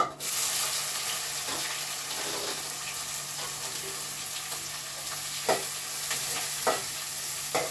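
Sliced onions dropped into a hot tempering of oil with dried red chillies for Nellore fish curry, a steady loud sizzle with occasional stirring clinks and no talk.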